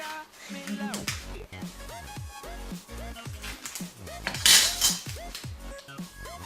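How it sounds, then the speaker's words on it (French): Cookie dough is stirred in a bowl, with repeated clinks and scrapes of a utensil against the dish at a steady rhythm, close by, while people talk over it and a brief loud scrape comes near the middle. "Et on mélange."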